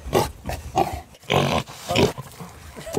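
A pig sound effect played on a podcast: several loud pig grunts and snorts in quick bursts, close and clear with no talk over them.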